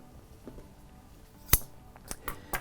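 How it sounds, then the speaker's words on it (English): Scissors trimming material during an electronics kit unboxing, with a few sharp, close snips: one crisp cut, then a quick cluster of smaller clicks, with no talking. "I'm actually gonna grab some scissors so that I can trim that a little bit"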